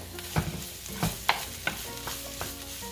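Onions softening in a pan with a low, steady sizzle beneath several distinct utensil clinks and scrapes from stirring, close up, with no talking.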